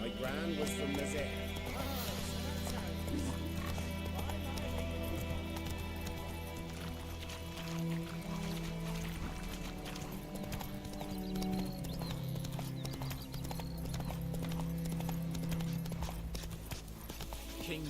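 Horse hooves clip-clop at a steady walking pace in the video game The Witcher 3, under a bed of game music and ambient sound, continuous throughout.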